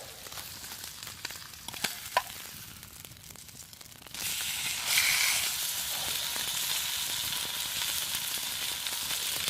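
Steak sizzles in a pan over a camp stove at a woodland wild camp, a faint crackle at first with a few clicks, then a louder steady hiss of frying that continues to the end.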